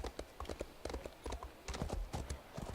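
In the video game Elder Scrolls Online, a horse trots with a continuous, rhythmic clip-clop of hooves. The hoofbeats are quiet but steady and fill the stretch without any talk.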